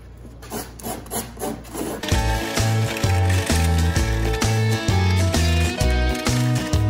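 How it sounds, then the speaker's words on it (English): Coarse 80 grit sandpaper rubs back and forth on the plastic body of a golf cart around a routed-out hole, a close, loud, rhythmic series of scraping strokes after a lighter opening stretch. "We're going to fine tune it with some 80 grit."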